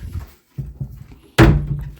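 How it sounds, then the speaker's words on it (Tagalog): An apartment front door shuts with a solid thunk near the end, preceded by faint shuffling and handling noises close by. "Yan yung pinto galing sa labas."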